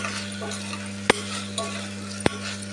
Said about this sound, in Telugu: ఇది కొంచెం మగ్గనిద్దాం.